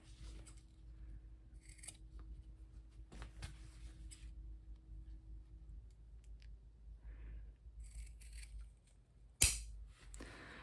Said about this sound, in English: I am going to just snip to the top corner of the pocket, and then same with the bottom here.